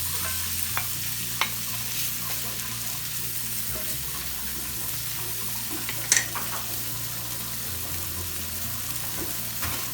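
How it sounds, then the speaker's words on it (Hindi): Chicken frying in a pan with melting tomatoes and green chillies gives a steady, close sizzle throughout, with occasional stirring scrapes and a brief clink midway, and no voices. "साथ साथ में हमारे टमाटर मेल्ट हो रहे हैं, और अब हम इसमें डाल रहे हैं जी चिकन"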